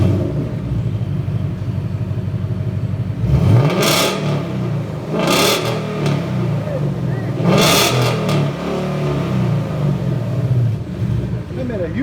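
2018 Ford Mustang GT 5.0 with a dual exhaust and X-pipe idling with a throaty burble, then three sharp, loud revs that roar and fall back.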